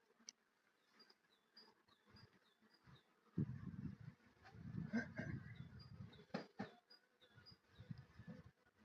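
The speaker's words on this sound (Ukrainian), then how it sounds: "Струшуємо бджіл і йдемо по рамочку." Honey bees buzzing faintly as they are shaken off a hive frame, with a thin high drone running throughout and louder bumps and rustles from the frame being handled in the middle of the clip.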